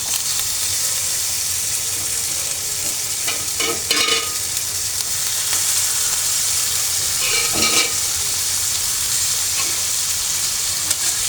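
Chicken cooks in a pan with ginger, garlic and onion paste, giving a loud, continuous sizzle broken by a few bursts of stirring and scraping.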